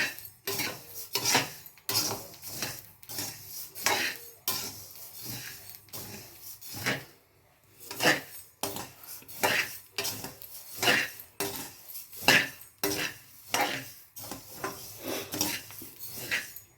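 Coriander seeds dry-roasting in a pan for sambar and kulambu spice powder, with a steady run of scraping, rattling stirs of a metal spatula against the pan, close and moderately loud, briefly pausing once midway, with no talking.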